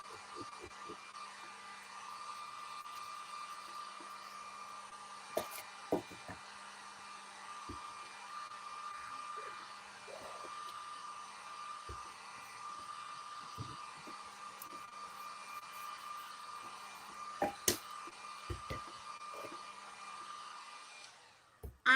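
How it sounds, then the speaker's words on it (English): A hair dryer runs continuously at close range for about twenty seconds, drying chalk paint on plastic in a Christmas tree craft, a steady whooshing drone broken by a few small knocks before it cuts off. "So I'm just going to dry this real fast."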